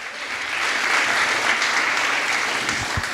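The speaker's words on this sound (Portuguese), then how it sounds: "Você pode aplaudir o Senhor, irmão." A church congregation applauding during a Pentecostal sermon, a dense, steady wash of many hands clapping together, fairly loud and close, filling the whole stretch with no talk over it.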